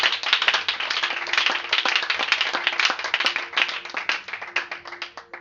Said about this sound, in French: Acclame Jésus très fort.